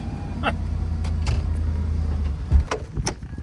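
A car engine cranking and catching on a cold morning, settling into a steady low idle with a few clicks and knocks from the cabin around it.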